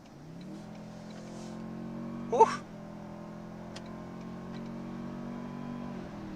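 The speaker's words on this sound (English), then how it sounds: "on the highway now, let's give it some beans." A 2022 Toyota Tundra Capstone pickup accelerates hard on a highway, a steady mid-pitched engine drone rising under cabin noise, with a brief exhaled exclamation from the driver partway through.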